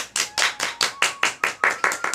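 Crisp, rhythmic clapping from an audience in unison, roughly ten evenly spaced claps in quick succession, close and moderately loud with no talking.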